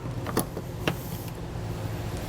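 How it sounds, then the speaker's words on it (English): Socket wrench loosening an 8mm bolt on a 2021 Honda Passport, heard as a few quick ratcheting clicks over a low steady hum, close by. "So with this one, we'll grab our socket and get this removed."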